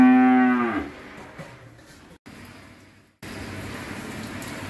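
Cattle on a Vinh Long cattle farm: one loud, close drawn-out moo at the start, then steady rain-like ambient noise with a couple of abrupt dropouts.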